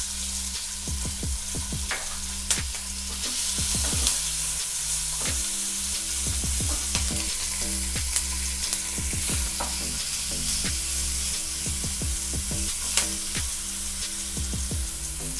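Yellow capsicum roasting in a hot pan with sauce and mixed herbs, a steady close sizzle broken by frequent rhythmic scraping strokes of stirring, with no voices.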